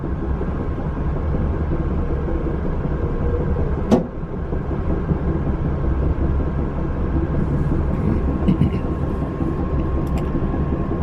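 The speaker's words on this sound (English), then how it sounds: "So we get to go up the street again on the tracks." Amtrak Silver Meteor passenger train running up street-running tracks through the town of Ashland, a steady loud rumble of wheels and engine with one sharp clank partway through and light metallic clicks later on.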